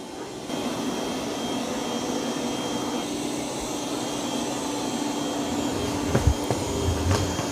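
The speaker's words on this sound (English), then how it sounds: "I mean, it actually is vacuuming pretty good." A Eureka J15 Pro Ultra robot vacuum cleans indoors with a steady, close whirring hum that runs throughout, with a few small knocks near the end.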